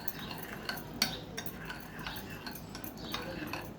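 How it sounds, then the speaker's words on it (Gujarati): Chili flakes and oregano stirred into pizza sauce with a spoon, soft light clinks and scrapes against the bowl in an irregular rhythm, quiet and close. "હાફ ટીસ્પૂન ઓરિગાનો નાખીશું અને આપણે આ મિક્સ કરી લેવાનું છે"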